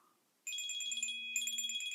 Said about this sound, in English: Oh, no, I have a phone call.